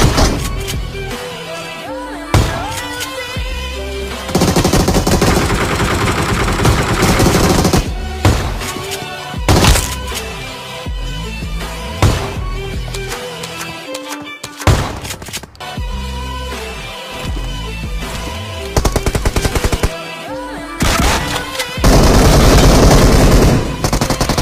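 Rapid bursts of shotgun gunfire from the mobile battle royale game PUBG Mobile, loud and dense, with repeated blasts and sharp cracks tumbling over one another across the clip and almost no quiet gaps.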